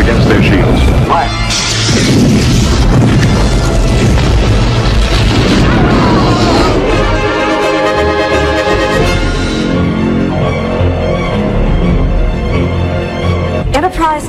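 Booming torpedo explosions from World of Tanks, styled after Star Trek: The Wrath of Khan, roll out in loud, dense bursts over a thick, sustained rumble, with voices talking amid the blasts.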